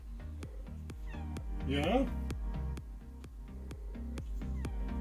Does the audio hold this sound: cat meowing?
yes